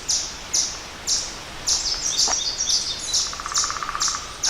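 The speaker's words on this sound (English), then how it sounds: "Alright, so there's a woodpecker." Repeated sharp bird calls from a woodpecker along a wooded country road on a ridge hike, a series of loud, evenly spaced high notes alone, followed by a fast run of short rapid chirps near the end.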